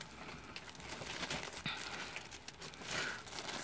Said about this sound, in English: It's in a nice plastic bag to make sure everything stays sealed.